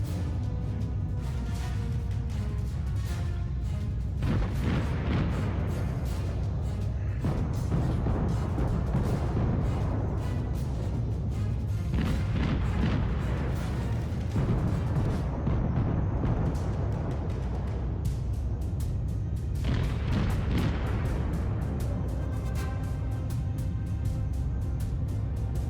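Naval gunfire in a video game warship battle with battleships, cruisers and a destroyer: a dense, continuous low rumble punctuated by repeated heavy booming salvos every few seconds, loud throughout.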